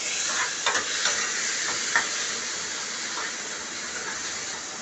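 Three medium chopped tomatoes fry in a kadhai with a steady hissing sizzle, marked by a few soft scraping clicks as they are stirred.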